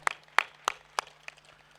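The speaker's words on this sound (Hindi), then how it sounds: "एक बार ताली बजाइए" Scattered hand claps ring out from an audience at a patriotic poetry gathering: about five separate sharp claps at an uneven pace, fairly close and sparse rather than full applause, with no talking.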